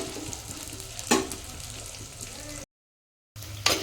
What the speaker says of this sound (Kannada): ಇದು ಚೆನ್ನಾಗಿ ಫ್ರೈ ಆಗಲಿ.